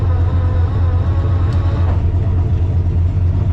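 An idling turbocharged engine in a four-door Zephyr runs with a low, steady rumble and a constant deep hum, close by and unbroken.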